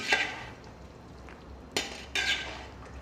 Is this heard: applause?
no